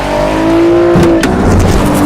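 A Nissan GT-R Nismo supercar engine roars loud and close, its strained, rising rev note shifting in pitch over about two seconds, alone with no voices.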